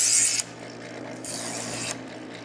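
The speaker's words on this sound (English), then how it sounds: "the electric sharpeners are really simple, and all you do is turn them on, angle is already set, pull it through" Electric chainsaw chain sharpener running close by, a steady motor hum with harsh grinding rasps at the start and again in a longer middle stretch as the chain is pulled through.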